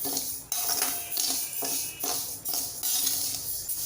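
Spoon scraping repeatedly in a pan as thalipeeth bhajani flour of mixed roasted lentils is stirred continuously while dry-roasting, a steady run of scraping strokes with regular rhythm, close and fairly loud, no talk.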